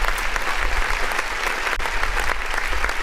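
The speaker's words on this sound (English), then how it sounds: "Why do I even hit that clap button when it's gonna freaking glitch out like that?" A burst of canned applause triggered from a clap button on a music review stream, dense steady clapping and light crowd noise running loudly and evenly throughout, with no speech over it.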